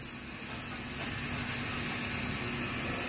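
Sliced onions dropped into hot oil in a pan while cooking fried rice, giving a steady, bright sizzling hiss that grows slightly louder and holds continuously, with no talking.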